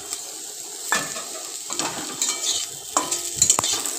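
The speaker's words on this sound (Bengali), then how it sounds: "এবার একটু ভালো করে নেড়ে নেব।" Chopped capsicum, carrot and tomato frying in a pan are stirred with a spatula, close scraping strokes over a steady sizzle, with a few sharper clicks near the end; no voices.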